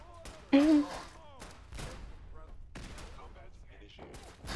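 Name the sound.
gunfire in Fallout 4, video game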